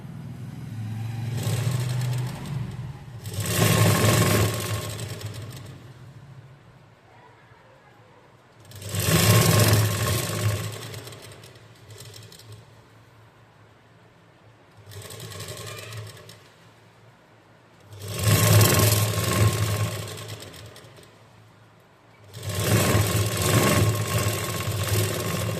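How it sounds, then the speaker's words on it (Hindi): A sewing machine stitches both side seams of a gathered umbrella frock in four or five separate bursts of close, steady whirring, with short quiet pauses between runs. "अब इसको हम पलट के और इसके दोनों साइड सिलाई कर देंगे"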